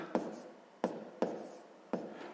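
A pen writes numbers by hand on paper in four brisk, separate strokes, each a sharp scratchy onset that fades off, close and fairly quiet.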